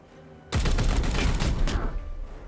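A loud burst of gunfire in the Warhammer 40K tactics game Chaos Gate - Daemonhunter, a dense, sustained volley that erupts suddenly, lasts about a second, then trails off.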